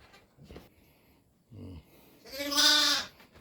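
Sheep bleat on a goat farm, one drawn-out call rising loud and close near the end, after a shorter low grunting sound; quieter farm background fills the rest.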